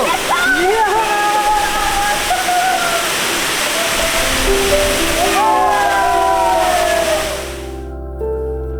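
A waterfall at a swimming spot sends up a loud, steady rushing roar that fills the scene, with voices talking and calling over it throughout.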